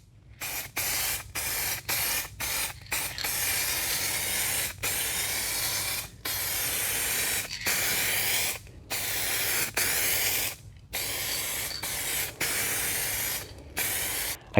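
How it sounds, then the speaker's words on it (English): Repeated bursts of U-pol 2K aerosol spray paint hissing close by onto a car panel, each lasting about a second with brief silent pauses between them, steady and fairly loud. "So now I'll give it another spray."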